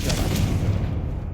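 Confringo explosive spell in the PC game Hogwarts Legacy, a deep booming blast with a rumbling roar that stays loud for the whole short moment.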